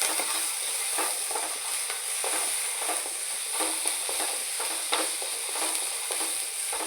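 Onions being stir-fried in a pan in a small home kitchen give a steady, soft sizzle broken by repeated stirring scrapes, with no voices over it.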